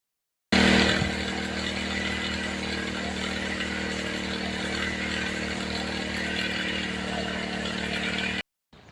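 Motorized sprayer engine running steadily while spraying pesticide on an onion crop in a farm field, a continuous loud two-stroke drone with no talk.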